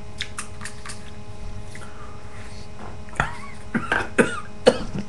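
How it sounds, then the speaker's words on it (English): Several short, sharp coughs close by, spaced irregularly over a few seconds, with faint wet throat sounds between them. "Every time it makes me cough."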